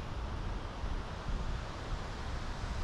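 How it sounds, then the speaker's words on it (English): Strong coastal wind gusts at St. Augustine, Florida, roaring as a steady broadband rush with heavy low buffeting against the microphone, fairly faint overall and with no talk. "As you guys can see, the wind is pretty strong."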